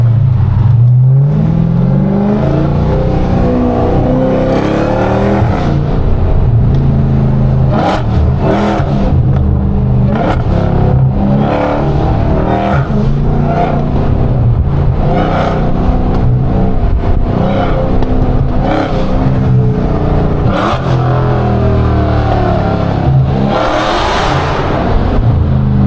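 A 700-horsepower Dodge Hellcat running on bald tires roars loudly and close, its engine revving and surging through repeated hard accelerations for the whole stretch, with no voices.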